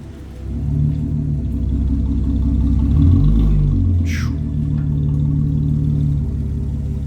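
An Audi car pulls in with a steady low engine rumble that swells louder for a moment midway, then settles back into a continuous idle-like drone close by.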